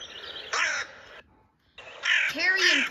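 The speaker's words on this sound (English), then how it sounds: "Hooded crow." A hooded crow caws loudly and close, a harsh rasping call followed by a pause and then a longer series of grating caws.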